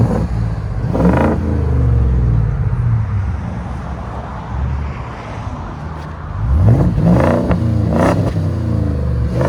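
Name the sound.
Ford F-250 7.3L Godzilla V8 revving with Borla exhaust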